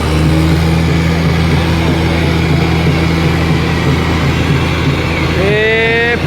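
Swaraj and John Deere tractors straining in a tochan tug-of-war contest, a steady loud diesel drone with low harmonic hum throughout, rising in pitch near the end, under crowd noise and voices.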